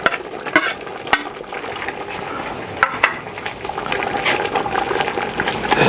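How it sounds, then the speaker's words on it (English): Banana blossom is stirred into a pot of boiling Filipino kare-kare with oxtail at an outdoor kitchen, making bubbling, sloshing liquid and a few sharp clinks from the utensil, close and moderately loud without speech. "Stir it in."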